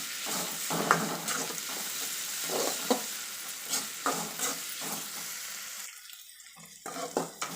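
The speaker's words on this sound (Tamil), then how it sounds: "உப்பு சேர்த்து வதக்கலாம்." Onions with salt sauté in a pan for tomato rice, a moderate sizzle broken by repeated scraping strokes of a spatula, the frying fading briefly near the end before more stirring knocks.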